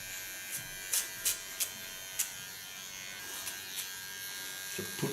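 Electric hair clipper cutting short hair into a pixie style, a faint steady buzz with a few soft snips and clicks scattered over it, close by with no talking.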